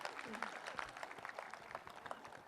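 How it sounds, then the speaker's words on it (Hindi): An audience claps throughout a live comedy show by a comedian: a dense, steady patter of many hands, faint and somewhat distant, with voices mixed in underneath. "तालियां एक बार जरा खुल के, फिर पता चलेगा साहब।"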